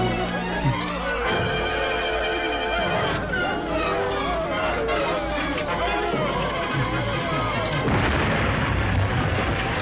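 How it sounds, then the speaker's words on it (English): Heavy booming explosion effects from an old film serial roll through a dense, continuous soundtrack, with voices mixed in. "Okay, there's the explosion."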